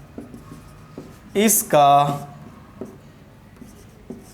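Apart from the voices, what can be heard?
writing on a board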